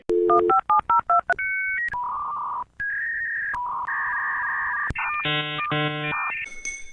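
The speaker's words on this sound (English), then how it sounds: "I just can't help but think of the old dial-up tone" Old dial-up internet modem connecting: rapid dialing beeps, then sustained warbling carrier tones and harsh shifting screeches of the handshake, loud and close, with no voices.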